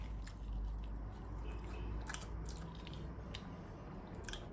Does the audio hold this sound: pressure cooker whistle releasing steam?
no